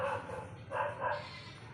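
A dog barks in two or three short yelps close by, with faint background noise and no clear speech.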